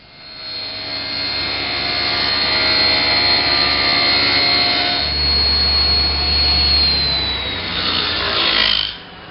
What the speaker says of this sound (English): That's all the cross cut I can get with the table saw.